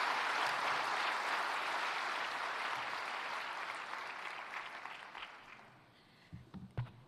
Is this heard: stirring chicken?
no